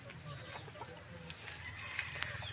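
Chickens clucking on a farm in the Philippines, soft repeated clucks under a steady broadband hiss, with a few brief sharper calls toward the end.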